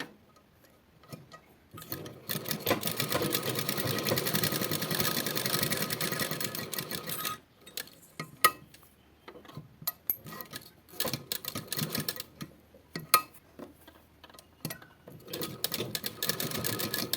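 A sewing machine stitches a neck design on fabric, a fast, close rattling run of several seconds, then shorter bursts of stitching separated by pauses, with faint ticking between runs.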